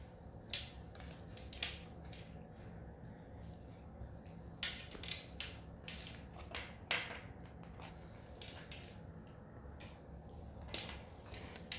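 Tarot cards are shuffled in quiet, repeated bursts of crisp riffling and soft flicks, close by against a faint room hum.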